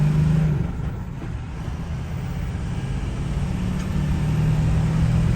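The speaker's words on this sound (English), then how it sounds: "just listen to that horsepower" A factory race truck's engine runs close and loud, a deep steady rumble with a slight rise and dip in revs, no voices over it.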